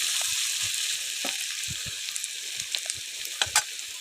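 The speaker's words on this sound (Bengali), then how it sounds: "এভাবে নাড়াচাড়া করে ভেজে নিতে হবে।" Bitter gourd fries in a wok, a soft continuous sizzle with scattered scrapes and taps as it is stirred, nearby and fairly quiet.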